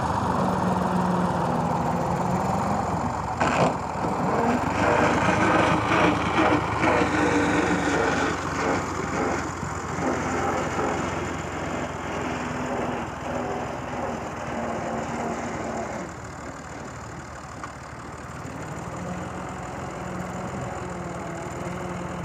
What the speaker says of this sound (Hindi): ये पीछे से ट्रैक्टर को लेके जाते हैं